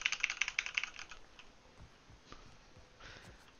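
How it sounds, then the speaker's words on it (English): A quick run of crisp, moderately loud clicks comes from a keyboard with soft brown switches being typed on, then fades into scattered faint taps over low background hiss. "They're soft keys. They're brown switches, I think."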